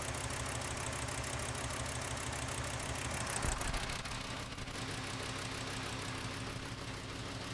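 Car engine idling with a misfire during ignition coil testing: a steady mechanical drone with a rhythmic uneven pulse, close and continuous, with a brief clunk partway through.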